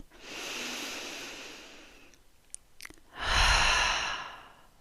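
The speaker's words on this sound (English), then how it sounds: "I'm hand on heart today for a nice deep breath." A woman's slow, deep breath during a calm meditative moment: a long soft inhale, a brief pause with small nasal snorts, then a fuller, louder exhale like a sigh, close and alone.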